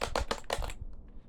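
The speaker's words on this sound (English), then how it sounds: "9-key Perkins style keyboard that sounds like this" Keys clacking on the 9-key Perkins-style keyboard of a Braille Sense Classic note-taker, a quick run of four or five close, crisp presses followed by a few fainter taps.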